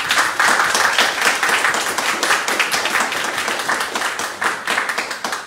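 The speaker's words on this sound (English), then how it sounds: "Perhaps a little applause for Quentin." A seated audience at a live talk on water claps warmly for a speaker, a dense, even patter of many hands that holds steady for several seconds before thinning slightly at the end.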